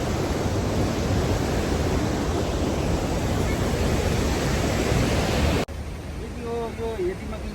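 A waterfall on a trekking trail on the Panchakunda route in Nepal roars as a loud, steady rush of water, then drops suddenly to a quieter background as voices begin.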